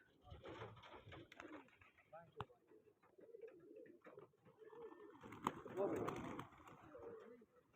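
Soft pigeon coos repeat among rustling and handling noises, with voices talking nearby and a louder burst of activity partway through.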